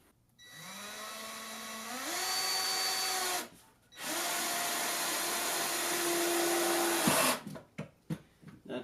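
A power drill drives screws into warped wooden boards for a dinner table, its motor whining up in pitch and holding steady through two long runs, then stopping with a few knocks.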